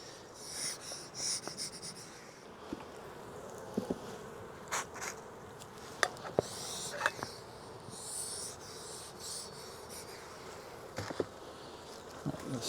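Honey bees buzz steadily around an open beehive during a hive inspection outdoors, a constant soft drone with scattered brief clicks and knocks from handling equipment.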